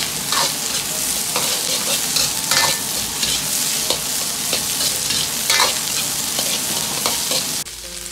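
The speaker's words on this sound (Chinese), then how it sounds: "炒至辣椒表面呈枣红色，接着下入青椒蒜，能炒出香味。" Squid stir-fries in a wok with dried chilies, Sichuan peppercorns, green peppers and garlic for a Sichuan dry-fried dish, producing loud, close sizzling broken by repeated scraping stirs of the spatula. No voices are heard.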